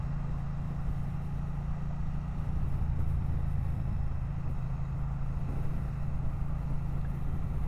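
A 2025 Triumph Bonneville T120 twin idles with a steady, low, even rumble, held constant and moderately loud throughout with no voices.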